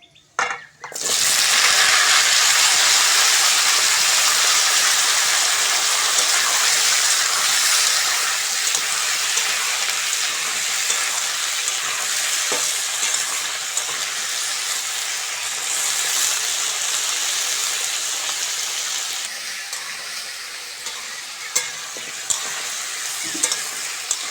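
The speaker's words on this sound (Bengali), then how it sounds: "সবজিগুলো ভালো করে ভাজবো যত ভালো করে ভাজবো তত সবজি টেস্ট আসবে" Mixed vegetables fry loudly in hot oil in a pan, a dense continuous sizzle with occasional stirring scrapes that eases slightly toward the end.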